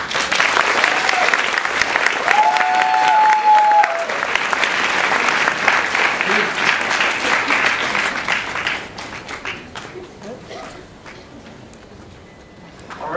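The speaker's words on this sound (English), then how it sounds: "Let's give them another round of applause." Audience at a Hmong community play event applauding board members, sustained loud crowd clapping that slowly thins and fades toward the end, with a little faint voice underneath.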